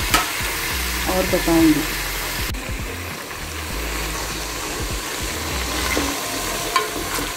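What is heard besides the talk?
brinjals (eggplant) frying in oil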